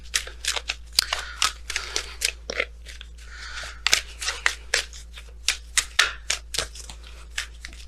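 Messenger Oracle cards are shuffled by hand in a quiet room, a close series of crisp riffling bursts and soft taps repeating in an irregular rhythm for several seconds over a faint low hum.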